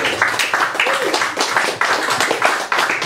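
An evening audience claps for Agnes Meadows, a close, loud and even spread of many hands clapping with no voices over it.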